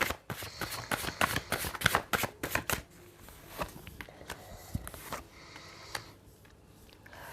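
Tarot cards shuffled by hand at close range, a quick run of crisp riffling flutters for about three seconds, then softer scattered taps and slides of the deck settling.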